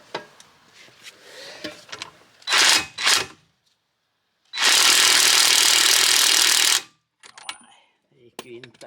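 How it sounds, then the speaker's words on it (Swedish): A pneumatic impact wrench is put on a 21 mm nut on a Volvo during ABS ring work, sounding two short close rattling bursts and then one long hammering burst of about two seconds, with handling noises in between. "Så ska försöka att ta den här med mutterdragan."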